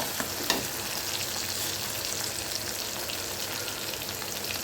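Garlic sautéing in a pan for a Tamil manathakkali fenugreek kuzhambu, a steady close sizzle with one brief stir-like click near the start and no talking.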